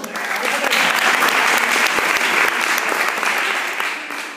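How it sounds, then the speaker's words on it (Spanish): A small theatre audience at a playback theatre performance bursts into loud, dense applause that swells quickly, holds steady for a few seconds, then tapers off near the end. "¡Una aplauso!"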